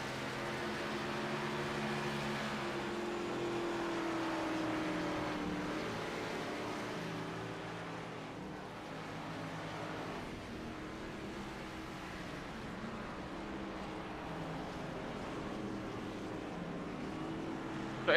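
Race car engines in a stock-car racing video game at Daytona, including the PBR Racing machine: a steady, smooth droning roar that holds for the whole stretch at moderate loudness, with no talk over it.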